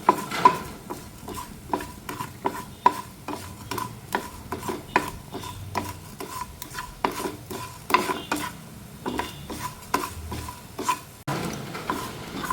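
Coriander seeds roasting in a pan for beef curry, stirred with quick, rhythmic scrapes and rattles of the utensil against the pan over a low sizzle, close and continuous with no speech.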